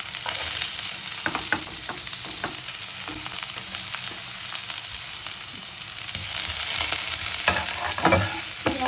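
Chopped onion sizzles steadily in hot coconut oil for Chinese-style chicken broccoli, a close, constant frying hiss broken by scattered scraping stirs of a spoon against the pan.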